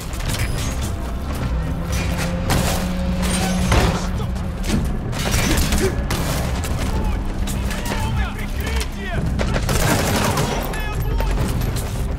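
Loud, unsuppressed gunfire in the Metal Gear Solid V video game: dense, rapid bursts of shots and booms fill the scene continuously, with a voice speaking briefly among the shooting.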